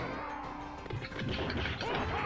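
Pillars smashed apart in The Punisher arcade game, a dense run of crashing, shattering impacts layered over busy game sound, close and loud with chiming debris near the end.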